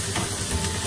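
Fresh peppers with red and green onions sizzle in a hot pan over ginger garlic paste, giving a steady, close hiss with no talking.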